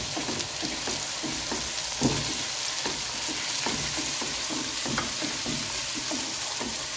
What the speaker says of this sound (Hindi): इस तरह से आपने मसाले की भुनाई करनी है।